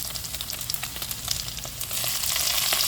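Onions saute in a pan while pakbet is being cooked, giving a close, continuous sizzle with small spatters and stirring that grows slightly louder and denser over the last second.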